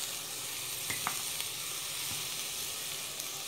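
Onion and peppers sauté in a pan as pastry fillings are prepared, giving a steady, close frying sizzle with a few soft stirring clicks and no voices.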